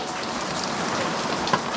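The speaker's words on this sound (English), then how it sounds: "Oh, it's raining." Rain falls in a steady, dense hiss, pattering on surfaces nearby during an off-road overlanding trip, with one brief louder tap near the end.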